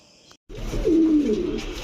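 A pigeon coos at a pigeon farm where fancy breeds are kept, one low throaty call rising close by over a brief quiet gap and background hum, with no speech.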